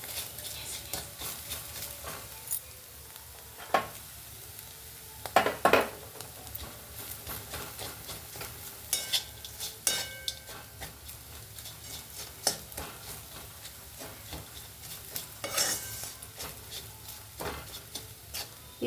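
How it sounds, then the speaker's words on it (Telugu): Chili and garlic paste frying with bitter gourd in a pan sizzles steadily while a utensil stirs and scrapes against the metal in irregular clinks and ticks, close and without talk. "ఈ పచ్చివాసన పోయే వరకు 1 నిమిషం వేగించుకుందాం"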